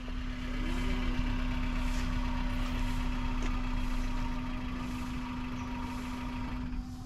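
A car engine running during a driving lesson, a steady hum with a strong constant low tone and broad road and cabin noise, unchanging and fairly loud throughout.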